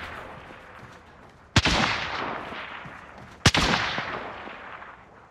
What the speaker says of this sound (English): It took you 12 shots to kill him.